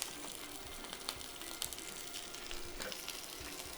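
Salmon fillets frying skin side down in a pan over medium-high heat, giving a steady, fairly quiet hiss and crackle with occasional small pops.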